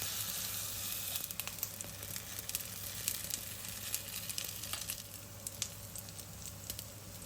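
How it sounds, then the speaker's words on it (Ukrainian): Steady sizzling of pumpkin fritters frying in a pan, with continuous crackle and occasional louder pops, no talking. "Смажимо декілька хвилин."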